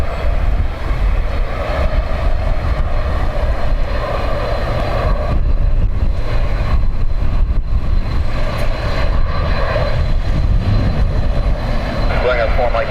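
A jet landing on runway 28 left at Dublin Airport in crosswind, a loud continuous engine roar at fairly close range, with someone talking over it.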